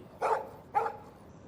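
A dog barks twice in the Life is Strange video game, two short, moderately loud woofs about half a second apart over a quiet background.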